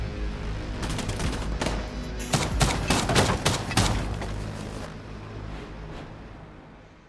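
Burst of rapid gunfire in Gears of War, including King shotgun blasts, a dense cluster of sharp cracks over steady game background, fading toward the end, no talk.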